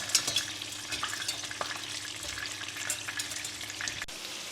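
Half-boiled potatoes sizzle steadily in a pan with a soft crackling frying noise, broken by faint clinks and stirring movements, with no one talking.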